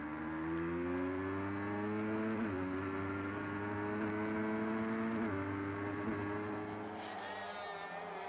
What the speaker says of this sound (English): Listen to that throttle blipping as he gets back on it again.